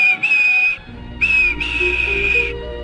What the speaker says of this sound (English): he blew his whistle